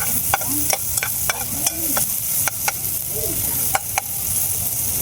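Onion and garlic fry in a pan at a camping cookout, a constant close sizzle punctuated by regular sharp taps and scrapes of a utensil stirring and hitting the pan, with no voices.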